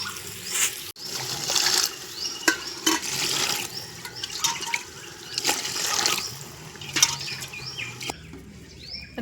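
Water splashes and gurgles into a cooking pot in uneven pours, ten tumblers' worth for vegetable biryani rice, with sloshing bursts and brief pauses.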